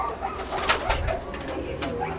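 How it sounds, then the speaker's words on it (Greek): Pigeons coo nearby, a few soft rolling calls rising over a rough outdoor background with some rustling noise, no voices intruding. "κοιτάξτε και τι όμορφα περιστέρια έχει από κοντά"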